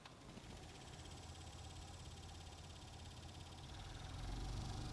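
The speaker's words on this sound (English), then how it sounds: "I'm going to go ahead and turn on the blower motor and listen to this noise" A car's blower motor runs with a low, steady rumbling whoosh, faint and continuous, growing slightly louder near the end, with no voices.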